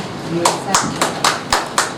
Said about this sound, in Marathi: टाळ्यांचा कंजूसपणा करू नका.